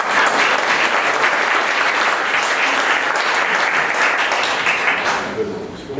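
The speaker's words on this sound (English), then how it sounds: "Please give a warm round of applause for Chris and Kate from UNation." A seated audience at a 1 Million Cups morning business pitch event bursts into steady, dense applause that fills the room for several seconds before gradually thinning out at the end.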